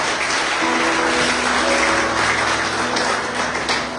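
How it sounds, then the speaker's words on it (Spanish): A church congregation at a Sunday service applauds, a loud, continuous wash of clapping with a faint sustained musical tone running beneath it. "Den un aplauso al Señor, por favor, en esta mañana."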